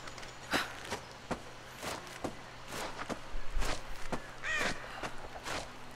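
Crows cawing in Rise of the Tomb Raider, a couple of harsh calls rising above a steady outdoor ambience with repeated footstep-like thuds through the scene.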